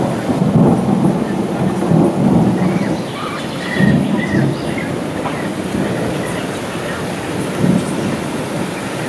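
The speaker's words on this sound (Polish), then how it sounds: "Tak wygląda sytuacja burzowa w tej chwili, tutaj są wyładowania liczne." Steady rain hisses throughout while low thunder rumbles swell and fade a few times during a morning storm in Łowicz, Poland, heavy and continuous with no voices.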